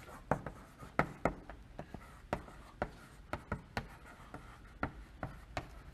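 Marker or chalk strokes on a lecture board tap and scratch in quick irregular clusters, close and fairly soft, with no talking during the writing.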